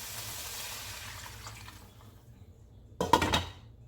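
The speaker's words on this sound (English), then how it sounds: "you're gonna put a water and let them boil until tender" Water pours into a cooking pot for chicken feet soup, a soft trickling fill at first that fades out, then a brief louder splash near the end.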